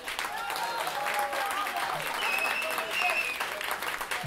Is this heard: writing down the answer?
no